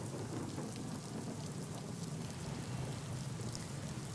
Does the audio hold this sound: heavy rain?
yes